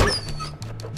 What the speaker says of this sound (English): Then beware of dog.